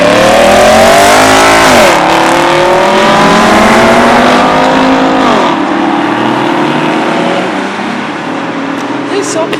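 A loud V6 truck engine revs up and down in several swells, roaring close by with a steady rumble between the pulls.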